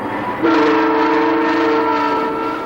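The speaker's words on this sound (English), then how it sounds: "All right, one whistle." An engineer sounds one long, loud blast on a locomotive horn from the cab, a steady multi-tone chord that starts abruptly and holds for about two seconds close by, with no talk over it.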